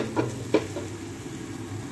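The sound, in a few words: onions sautéing in a pan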